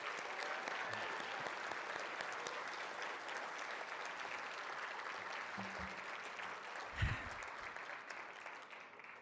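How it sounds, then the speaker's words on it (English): A room of attendees applauds the evening's winners at the Petoskey Chamber's annual Celebration of Champions, even sustained clapping heard from a distance, fairly quiet, with a brief bump near the end. "Can we please have another round of applause for all of this evening's winners?"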